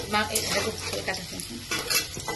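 Meat frying in oil in a pan with bay leaf while being stirred, for a chicken curry: steady close sizzling with scraping and clinking of the utensil against the pan, no talking.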